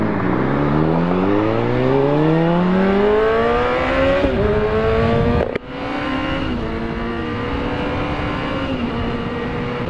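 A car engine revs hard and climbs through rising gears while accelerating into a turn lane, loud and close from inside the vehicle, with a brief thump mid-way before the engine settles into a steadier drone.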